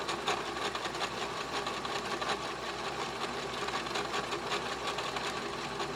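A vintage Janome New Home DX 2015 sewing machine runs at low speed with a continuous, fairly quiet mechanical rattle and rapid needle ticking, steady throughout with no talking.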